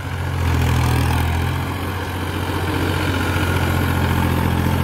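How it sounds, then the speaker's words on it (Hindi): A Balwan 400 tractor engine idles nearby with a steady low, rumbling drone and a faint rattle, holding an even level throughout with no talking. "देखो जी ट्रैक्टर भाई बड़ा मस्त है"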